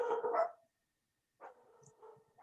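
Dog barking in the background of an online meeting, a single faint bark followed by a pause, then a softer whining yelp trailing off, distant and thin.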